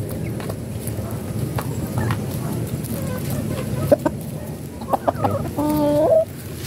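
Chickens cluck softly in the background amid farmyard noise, building to a louder drawn-out squawk near the end.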